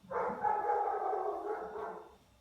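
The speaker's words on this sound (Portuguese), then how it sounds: "E o cachorro latindo, querendo participar da minha aula, como sempre." A dog indoors during a lesson lets out one sustained mournful howl, moderately close and fairly quiet, rising and fading over about two seconds with no barking and no talk over it.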